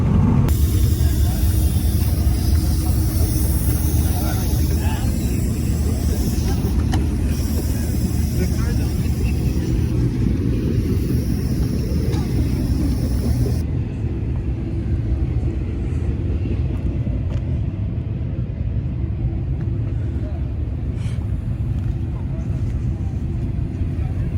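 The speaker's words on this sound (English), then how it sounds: "It's a Evo 9 with bolt-ons against a STI with bolt-ons" A Mitsubishi Evo 9 and a Subaru STI, both with bolt-on upgrades, racing: loud sustained engine roar and rumble that drops slightly midway, with a voice faintly audible underneath.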